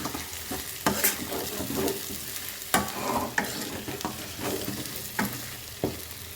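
Tomatoes frying in a pan for biryani, a constant sizzle broken by repeated scraping strokes of a stirring spoon at irregular intervals, close and clear without speech.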